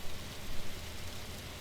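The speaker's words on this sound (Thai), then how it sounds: "ฝนก็ตกนะฮะ" Rain falls in the Roblox game 99 Nights in the Forest, a dense, even hiss of steady rainfall with no distinct drops or voices.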